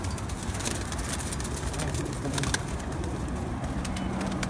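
Domestic pigeons coo softly and steadily in a loft, with soft low calls overlapping against a faint background hum and no talking.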